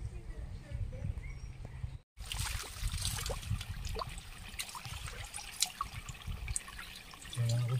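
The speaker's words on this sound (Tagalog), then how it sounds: "Running water talaga siya, so kaya malamig." Cold running water flowing by a pool at a mountain camp in Tigaon, a soft, continuous trickling and splashing with small irregular drips, fairly close, briefly cut out and then resuming.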